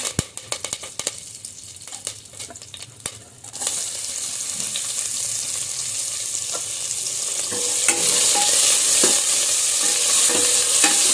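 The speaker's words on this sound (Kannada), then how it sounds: "ಒಗ್ಗರಣೆಗೆ ಸ್ವಲ್ಪ ಎಣ್ಣೆ ಹಾಕ್ಕೊಳ್ಳೋಣ. ಸಾಸಿವೆ, ಜೀರಿಗೆ, ಕರಿಬೇವಿನ ಸೊಪ್ಪು ಹಾಕೋಣ." Mustard seeds, cumin and curry leaves are tempered in hot oil: scattered sharp spattering pops first, then a sudden loud, dense sizzle that keeps building, with stirring.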